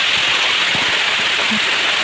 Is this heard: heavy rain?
yes